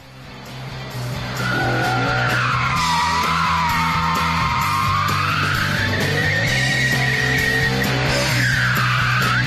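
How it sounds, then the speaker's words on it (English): An MF5 race car skids as it brakes hard after a long straightaway, tires squealing loudly in long wavering tones over the steady drone of the engine, close and continuous with no talk. "when he hits the brakes after a long straightaway, the car starts to skitter"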